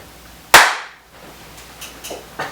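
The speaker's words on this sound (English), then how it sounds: "We're gonna do the official clap." One sharp, loud hand clap rings out, followed by a quiet pause and faint, soft sounds afterward.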